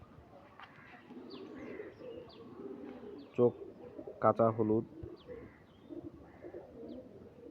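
A green Giribaz pigeon from Rajshahi gives a few short, close cooing bursts in the middle of the clip while a person talks over low background noise.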